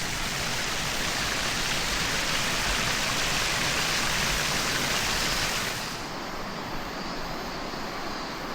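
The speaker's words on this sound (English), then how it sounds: "Standing here, I can just feel the spray from the waterfall, and it is remarkably refreshing." A waterfall at Sandankyo gorge roars as a dense, steady wash of falling water, loud and close throughout with no voices, easing slightly toward the end.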